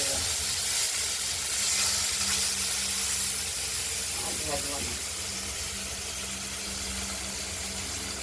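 Pieces of catla fish frying in a pan, giving a loud, steady hiss and sizzle that fills the whole stretch with little change, close by, while a voice may be faintly present.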